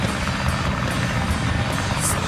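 A plane's engine roars in Sonic Adventure on the Dreamcast as Tails flies: a loud, steady, rushing propeller drone with no letup, heard alone.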